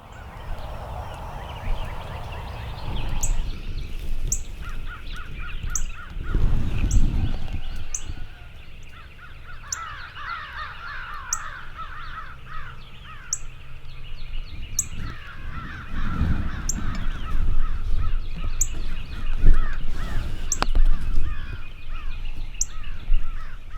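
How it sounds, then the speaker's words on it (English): Several crows caw repeatedly at a distance in Georgia woods in the morning, harsh calls overlapping with other birdsong in an open outdoor setting, no talking. "it was well after the crows started making a little racket"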